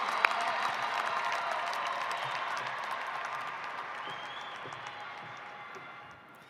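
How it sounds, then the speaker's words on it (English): A high school graduation audience applauds students in a broad, crowd-wide round of clapping mixed with murmuring voices, easing off gradually toward the end. "Please applaud these students for their involvement in clubs and activities"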